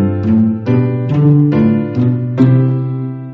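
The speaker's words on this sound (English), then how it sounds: "A cello sounds like this." A cello plays a slow melodic line of about six bowed notes, each with rich low harmonics and a clear attack, sounding close and moderately loud with no talking.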